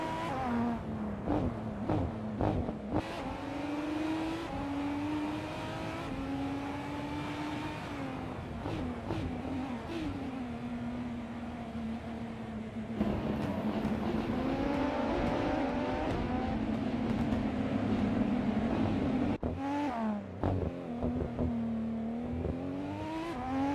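Race car engines from a 2019 IPS Kuruma in a Kuruma Cup race within a racing video game: a steady, loud engine drone rising and falling in pitch through gear shifts and revving, with brief dips between shifts.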